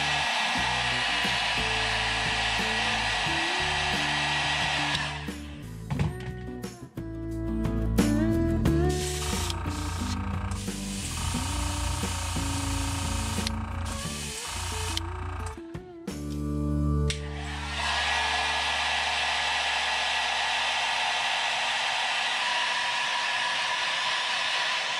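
A heat gun heat-sets fluorescent orange paint on the front hook hanger of a custom-painted crankbait. A loud, steady blowing roar runs for about five seconds, breaks into clattering, shifting mechanical noise in the middle, then resumes as a steady roar.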